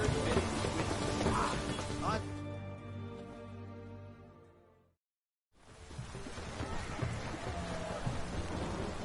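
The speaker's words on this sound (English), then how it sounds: "It's raining, of course it's going to be tough." Rain falling in a wartime setting, a dense broadband hiss that drops off partway, leaves a gap of near silence, then returns steadily to the end.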